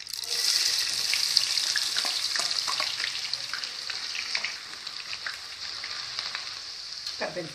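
Chopped onion frying in hot oil with mustard seeds for vangi bath, a steady close sizzle running throughout with a few faint scrapes and splashes, no voices.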